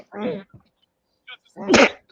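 A single sharp sneeze bursts out, preceded by a quick breathy intake, close to the listener.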